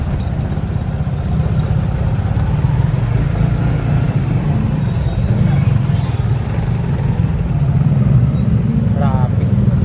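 Steady road traffic and engine rumble while riding through San Jose Patag, Santa Maria, Bulacan, a loud continuous low drone of vehicles with a brief higher whine near the end.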